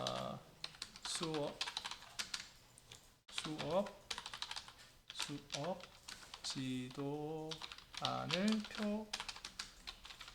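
Someone types on a computer keyboard with a spacebar that does not register well. The keystrokes come in quick irregular bursts of clicks, close up, with a person talking in Korean throughout.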